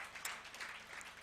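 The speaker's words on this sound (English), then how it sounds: "please give a big applaud for Reverend Henrik Grape and for Matthias" A conference audience applauds, a steady wash of many hands clapping that swells in places and stays fairly even, moderately loud and without talk.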